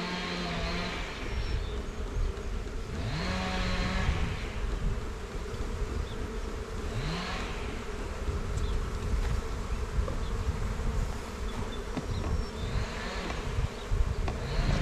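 Honeybees swarm and buzz around hive frames in an apiary as new wax is added, making a dense, loud, continuous drone with no one talking.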